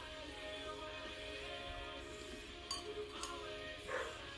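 Dogs bark faintly in the background of a quiet room, a few short, distant yaps and clinks scattered over a low, steady hum.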